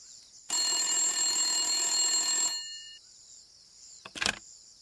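A telephone in an animated cartoon rings with a loud, bright bell trill lasting about two seconds, then a short clatter follows as the receiver is picked up.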